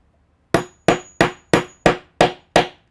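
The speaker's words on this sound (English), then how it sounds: "You can hear that last hammer was just kind of a solid one and not a tinny type one." Seven sharp, evenly spaced hammer taps on metal rivets set into a handbag, close and crisp, each ringing briefly before the next strike, with no talking.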